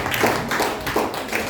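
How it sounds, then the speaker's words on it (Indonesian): Classroom applause from students after a group presentation, a few rhythmic bursts of clapping close by, moderately loud, with no talk over it. "Oke, tepuk tangan dulu."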